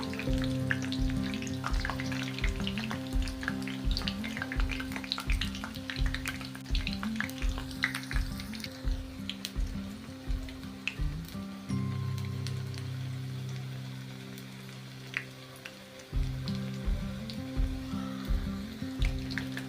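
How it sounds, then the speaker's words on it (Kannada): Potato and puffed rice pakoda deep-frying in oil over a medium flame, a dense, continuous bubbling sizzle with crackling pops and a regular pulsing rumble underneath, close and fairly loud. "ಇವನ್ನ ಎಣ್ಣೆ ಒಳಗೆ ಚೆಂದಾಗಿ ಇವು ಫ್ರೈ ಆಗಲಿ ರೀ"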